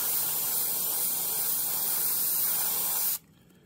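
Airbrush spray of paint hissing continuously while painting waves, a steady close loud hiss that cuts off abruptly near the end, leaving near silence.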